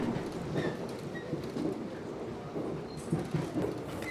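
Rumbling, rattling interior of a swaying subway train in motion, a steady mid-level clatter with faint clicks and knocks throughout, no talk.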